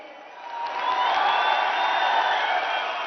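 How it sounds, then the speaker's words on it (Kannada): Audience applause for PM Narendra Modi at a public event in Mysuru, Karnataka, swelling into a dense, sustained crowd of clapping with faint cheering mixed in, heard as a broad wash from across the venue. "ಜೋರು ಚಪ್ಪಾಳೆಯೊಂದಿಗೆ"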